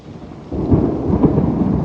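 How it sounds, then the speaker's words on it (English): A deep rumble of thunder during an autumn storm rolls in abruptly and holds steady, heavy and close, with a faint hiss of rain and no voices. "Looks like it's gonna rain on us today a little. Oh no. Storming."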